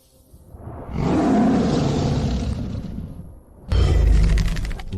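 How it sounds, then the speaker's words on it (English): White tiger roaring, a loud, broad rumbling roar that swells and sustains for a few seconds, then a second harsher burst right after, close and alone without talk. "It's a white tiger"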